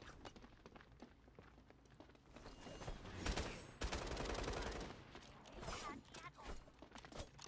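Rapid SMG gunfire in a video game, bursts of dense shots swelling in the middle and later, layered with mechanical clicks, under a busy game mix with some voice.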